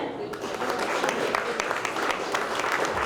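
An audience at a concert for mothers at the Žlibinai cultural centre applauds in dense, even clapping that holds steady throughout.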